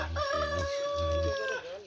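A rooster crows once in a single long, loud, close call lasting most of the moment, beside a muddy village pond where a family is hauling in a fishing net.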